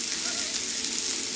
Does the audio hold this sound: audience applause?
no